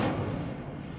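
The Incendio fire spell in Hogwarts Legacy bursts out as a dense, loud whoosh of flame that rushes in at once and holds steady for about a second.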